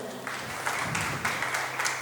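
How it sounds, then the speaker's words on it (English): A church congregation claps for the Lord during a Sunday English service, producing a moderate, steady patter of hand claps with slight rhythmic pulses, heard from a short distance. "Let us give a hand clap to the Lord."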